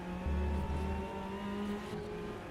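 On-board race car engine in the RaceRoom sim racing game, a WTCC touring car at Motorland Aragon, droning steadily at high revs with a strong tonal whine, close and continuous, no voices.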